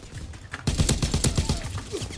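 FG 42 assault rifle firing in the WW2 shooter Call of Duty WW2, a rapid burst of about a dozen close, sharp shots after a short quiet lead-in, sounding alone.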